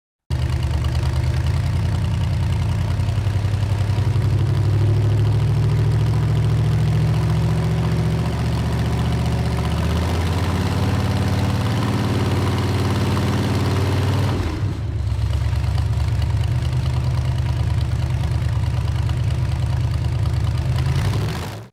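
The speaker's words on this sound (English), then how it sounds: "Beneath the hood lies a robust V8 engine" A 1959 Cadillac Custom with a V8 engine idles steadily and loudly, a deep, continuous low rumble with a brief dip midway before settling back into the same even idle.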